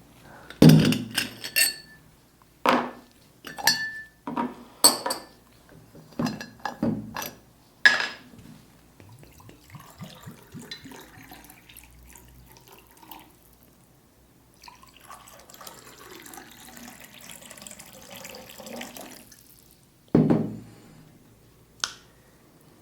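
Water poured into drinking glasses, heard as several sharp clinks and splashy pours near the start, a softer trickling stretch in the middle, and one more clear knock near the end, close and fairly quiet.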